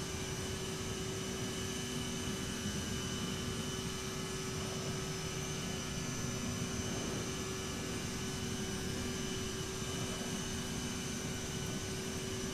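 Continuous cabin-level roar and tonal whine of a CRJ-700 airliner's jet engines climbing in Microsoft Flight Simulator 2020, a loud, even drone that never lets up, with no voices over it.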